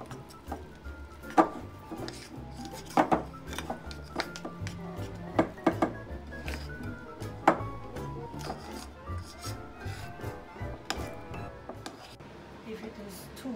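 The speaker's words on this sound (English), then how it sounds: "Now mix everything together." Karelian pie dough being mixed in a bowl, scattered scraping, rubbing and knocking clatters at close range, with intermittent talk between them.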